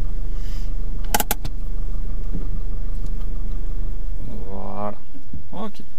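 Car engine idling and rumbling as the vehicle slowly comes to a stop during a driving lesson practising hill starts without the handbrake; a steady low hum with brief clicks, and a voice speaks near the end.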